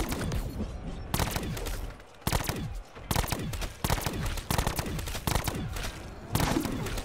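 Bursts of automatic gunfire in Call of Duty: Black Ops 4, a run of heavy, rapid shots broken by short pauses, loud and close throughout, with no talking.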